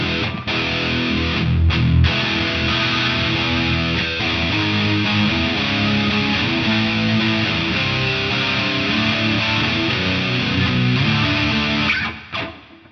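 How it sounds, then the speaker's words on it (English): An electric guitar plays through a Mooer GE200 at full distortion, a thick, continuous saturated roar of held chords and riffing, loud and steady for about twelve seconds before cutting off. "Full distortion"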